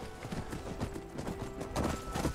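Hooves of a horse in the Skyrim video game clip-clop in a steady, quick rhythm, close and moderately loud over a soft background bed.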